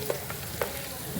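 Chopped vegetables (brinjal, cabbage and papaya) sizzle in a pan of oil with ginger, garlic, green chilli and whole cumin for an Assamese khar, a steady soft hiss with a few faint crackles and pops.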